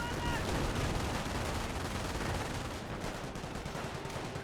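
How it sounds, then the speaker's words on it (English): Battle gunfire from the Company of Heroes 1 strategy game, a dense continuous crackle of rifle and machine gun fire with distant explosive thumps, fairly quiet and steady. "Now got the lieutenant taking massive fire."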